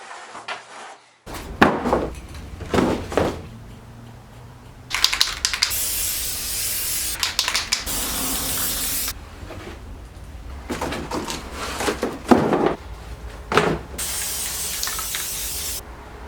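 Spray adhesive hisses onto a countertop being made from vinyl flooring in several separate bursts of a few seconds each, close and fairly loud, with faint handling clicks and rustles between them.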